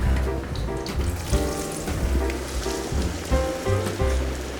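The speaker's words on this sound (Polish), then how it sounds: "Cebula ląduje w woku." Onion fries in a wok while pierogi are being cooked, giving a loud, dense sizzle and crackle with bursts of clattering from the pan, heard close and continuously.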